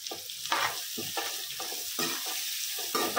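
Sliced onion with turmeric fries in a pan over high heat, a continuous sizzle broken by repeated scraping stirs at a regular pace, close and moderately loud, with no talking.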